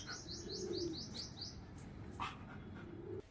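Pet birds chirp in a cage, a run of quick, high repeated tweets near the start followed by scattered calls over a low background hum, with a faint low coo-like note underneath.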